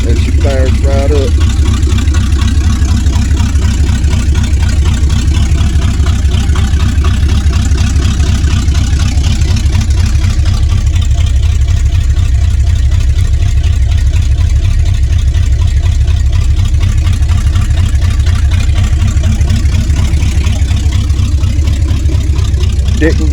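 A car engine idles steadily after a cold start, a loud, close, low rumble holding an even throb throughout, with a voice faintly present beneath it.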